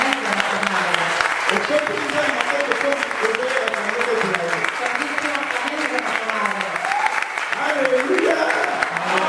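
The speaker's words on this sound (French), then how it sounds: "Est-ce qu'on peut donner à Dieu une forte acclamation?" Congregation applause and acclamation at a church service, steady dense clapping from a crowd throughout with voices calling out over it.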